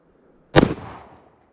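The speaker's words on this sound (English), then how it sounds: "we're gonna move on to the 44 Magnum Thompson Contender. Shot number one" A single sharp report from a .44 Magnum Thompson Contender handgun fired at an outdoor range, a loud crack followed by a short decaying echo, alone with no voices.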